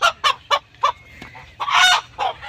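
A large native rooster and other farmyard fowl, with geese nearby, give a series of short, sharp clucks and squawks in quick bursts, ending in a louder drawn-out call, close by and with no talking.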